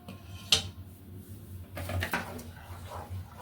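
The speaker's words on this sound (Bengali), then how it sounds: "এটা দিয়ে নাড়তে থাকতে হবে।" Fried semolina with milk being stirred in a pan: a utensil scrapes and clinks against metal over a steady low background hum, with one sharp clank near the start and softer scraping strokes after.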